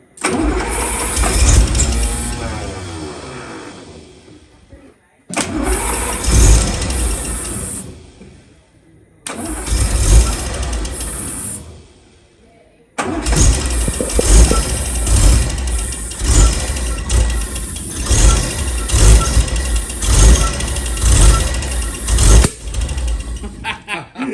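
An old ute engine, back after 15 years off the road, cranks and fires in several loud bursts, cutting out twice before catching and running roughly at idle; voices talk briefly in the background.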